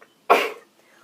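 One abrupt sneeze bursts out after near silence, sharp at onset and then fading over a fraction of a second, loud and close.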